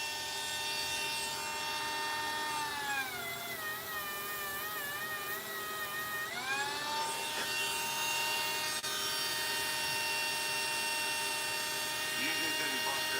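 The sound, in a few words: rotary tool running, Dremel or Bauer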